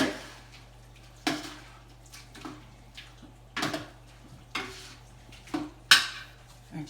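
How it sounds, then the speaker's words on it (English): A spoon clinks and scrapes against a pot while diced tomatoes are stirred into a meaty bolognese sauce, giving scattered sharp knocks and clatters roughly once a second over a low steady hum. "Give it a stir."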